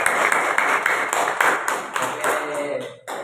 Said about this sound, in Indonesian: Ayo kita tepukkan.